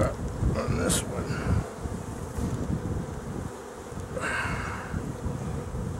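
Honey bees buzzing in an open hive, a dense, steady swarm hum close by, with a person speaking briefly over it.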